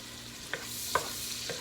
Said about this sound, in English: To this pot I am going to add my garlic and my onions.